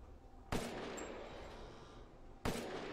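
Two loud, sharp gunshots about two seconds apart, each followed by a ringing echo over a low background hum, in the video game Resident Evil Village.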